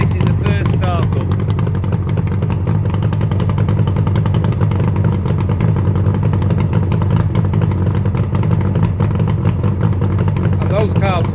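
A rebuilt 1976 Suzuki GT750A two-stroke triple motorcycle idles steadily on its first startup after restoration, a loud close rumbling engine with even clattering pulses throughout and faint speech.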